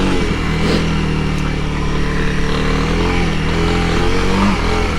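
A Honda CRF300L dual-sport motorcycle engine drones loudly and steadily while riding off-road, a close continuous running note with slight rises and falls in pitch and no break.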